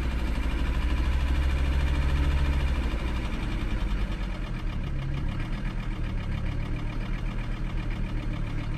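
Diesel engine of a Mercedes 300SD, just brought back to life after being left for dead, runs steadily up close with a low throbbing idle and a loud, continuous clattering rumble throughout.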